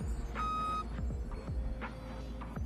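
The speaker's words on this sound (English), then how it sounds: "Why is it beeping?" Repeated alarm beeps from a farm vehicle in the Farming Simulator game, sounding in a steady rhythm of short tones over a constant low engine hum, with no talk.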